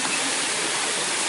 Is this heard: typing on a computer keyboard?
no